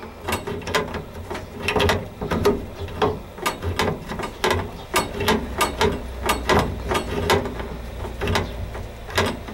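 A plastic water strainer housing on a tankless water heater being tightened with a wrench, giving a run of close, irregular clicking and ratcheting ticks with no talk.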